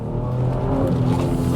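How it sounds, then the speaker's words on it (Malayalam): A BMW X7 xDrive SUV's engine, shifted into manual mode, holds against its rev limiter as a loud, steady, close drone that runs through the whole stretch with no voices. "മാനുവൽ മോഡിൽ ഇടുമ്പോൾ റെവ് ലിമിറ്റർ ഹിറ്റായിട്ട് ഗിയർ ഷിഫ്റ്റ് ആവുന്നില്ല"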